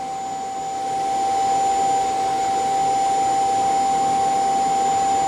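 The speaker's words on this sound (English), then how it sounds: "That's the vacuum kicking on" The self-emptying station of a Eufy C10 robot vacuum pulls dust out of the robot. It makes a steady, loud suction roar with a constant high whine, swelling slightly after the first second and holding without talk.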